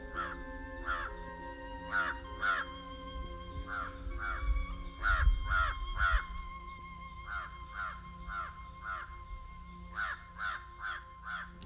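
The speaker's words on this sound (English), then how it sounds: "I was awakened by the call of a crow." A crow caws repeatedly in short groups of harsh calls, fairly near and clear over a quiet background with a low hum, the calls coming in irregular bursts.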